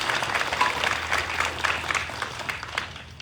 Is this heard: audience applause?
yes